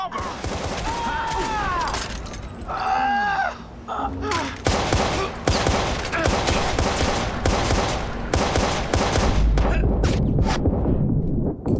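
Repeated shotgun blasts and gunfire from the video game Watch Dogs, loud and dense throughout a combat stretch, with overlapping shots and impacts and no talk.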